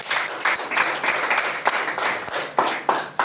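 A church congregation claps together in a brief burst of applause, the scattered hand claps close and moderately loud, fading slightly toward the end.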